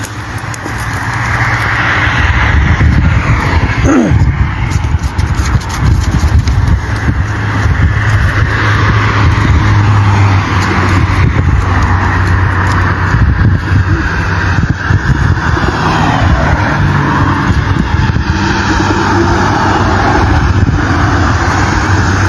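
Cars pass by on a road, a steady loud engine and tire roar with one sharper passing sweep early on, continuing without talk.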